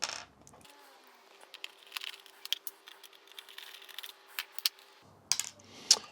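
Screws are worked out of a Clamshell G3 iBook with small metallic clicks and light ticking taps, scattered and faint over a low background hum, with sharper clinks near the end.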